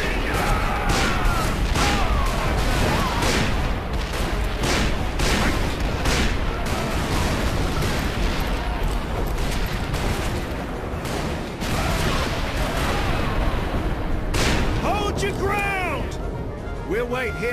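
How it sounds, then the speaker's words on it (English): Rifle volleys crack repeatedly in a Call of Juarez: Bound in Blood battle, dense overlapping shots and impacts from near and mid distance, while voices shout over the gunfire throughout. "Ready your rifles! They're coming! Shoot on sight!"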